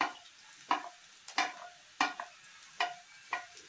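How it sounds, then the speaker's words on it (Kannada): Onions fry in oil in a pan for a North Karnataka–style dill leaf palya, with a soft sizzle under about six sharp scraping stirs at an irregular rhythm, close and fairly quiet. "ಈಗ ಈ ಆಯಿಲ್ಗೆ ಈರುಳ್ಳಿ ಹಾಕ್ತಾ ಇದ್ದೀನಿ"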